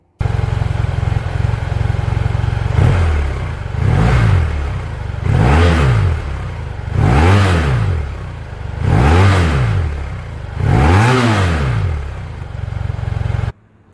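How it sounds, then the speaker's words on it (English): A BMW F700GS motorcycle with its stock exhaust idles and is revved in five or six evenly spaced throttle blips, each rising and falling back to a steady idle, close and loud with no talking. "So let's get a sound clip of what the bike sounds like"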